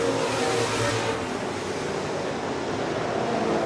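Modified race cars roar around a track on the final half lap toward the checkered flag, a loud, steady wash of engine noise with a surge near the start and no talk.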